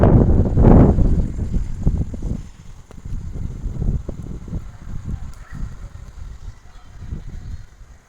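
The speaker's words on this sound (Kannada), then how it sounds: "ತುಂಬ ಗಾಳಿ ಬೀಸಕತ್ತೈತಿ ತಂಪಾದ ವಾತಾವರಣ" Strong wind blows in heavy gusts, buffeting the microphone with loud rumbling bursts that ease slightly before surging again.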